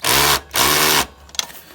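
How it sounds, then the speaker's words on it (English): A power tool whirs loudly in two bursts, each about half a second, followed by brief clattering handling noises, during brake replacement work on an RD 350 motorcycle. "This is the power tool that I have"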